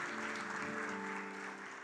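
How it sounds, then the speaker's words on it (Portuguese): A church congregation applauds, a soft, diffuse patter of many hands heard at a distance, with steady sustained musical tones ringing beneath it. "Aplaude a Jesus aí"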